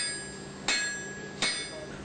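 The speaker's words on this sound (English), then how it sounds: "it's taken from the heat and beaten using a hammer." Two sharp hammer blows on hot carbon steel being forged into a knife, spaced well under a second apart, each a bright metallic strike that rings briefly and fades, heard close against a faint steady background hum.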